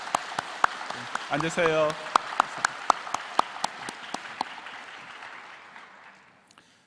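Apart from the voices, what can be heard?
welcome applause in church service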